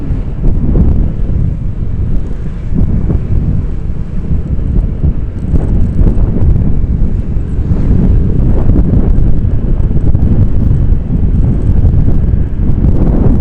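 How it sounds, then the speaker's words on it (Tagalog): Strong, steady wind buffets the microphone after a storm and heavy rain, a loud continuous low roar with gusty surges throughout, no voices. "Bigla eh, malakas na hangin."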